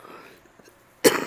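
A single sharp cough bursts out near the end, close and loud, after a stretch of quiet background from an Animal Crossing New Leaf game session.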